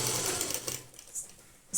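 A sewing machine stitches a folded kurta strip in a short, close whirring run that fades slightly toward the end.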